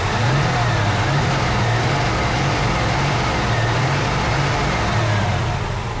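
LT1 V8 engine idling under the hood of a 1955 Chevrolet 210, a dense steady rumble with a low pulsing throb, loud and close, constant for the whole stretch.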